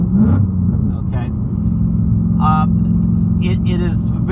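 A 2019 Ford Mustang Bullitt rumbles low and steady while driving, its engine drone heard from the cabin beneath a voice.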